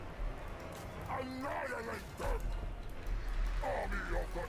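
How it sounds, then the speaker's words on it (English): Dogs barking and yipping in the fantasy football video game Blood Bowl, a Vermin League playoff match, heard faintly through crowd noise and under steady commentary talk. "These dogs can run after those marauders."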